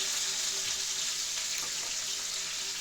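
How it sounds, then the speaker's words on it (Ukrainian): Chopped onion frying in a little oil in a pan gives a steady, dense hiss that holds without a break from start to finish, close and even, with no voices over it. "Викидаємо на пательню. Там трошки олію, щоб цибулька прожарилася."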